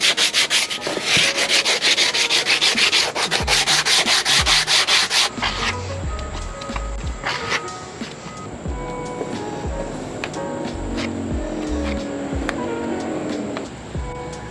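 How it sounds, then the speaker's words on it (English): Rapid back-and-forth sanding of Bondo body filler on a scooter body, loud and rhythmic at first, then giving way to softer scraping and rubbing strokes, with no talk. "again, more sanding, going back and forth, sanding, adding more Bondo"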